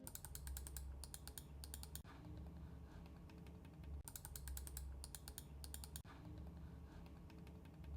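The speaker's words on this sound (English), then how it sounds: "Here's a sound comparison of my MX Master 3 for Mac and my wife's MX Master 3S." Two Logitech computer mice, an MX Master 3 for Mac and an MX Master 3S, are clicked one after the other in alternating bursts of quick, close, quiet clicks.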